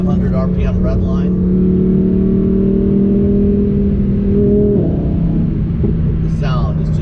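A Lamborghini Huracan Sterrato engine revs hard toward its 8,500 RPM redline through a 7-speed DCT, a loud steady climbing drone with a quick shift dip near the end, while someone talks over it.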